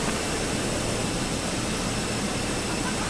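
Airbus A320 jet engines taxiing in Microsoft Flight Simulator 2020, a steady, loud broadband roar with a low rumble that holds unchanged throughout, with no talk over it.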